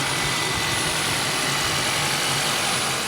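A 2023 Kia Sportage plug-in hybrid engine runs on a cold winter morning, giving a steady, loud, broadband roar that holds unchanged for about three seconds, with no talking.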